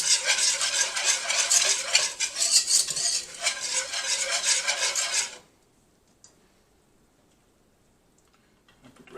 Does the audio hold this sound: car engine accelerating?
no